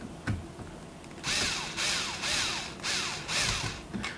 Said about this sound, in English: So I'm going to be very careful screwing this down.